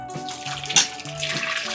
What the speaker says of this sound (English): So I'm gonna dump all of this into a blender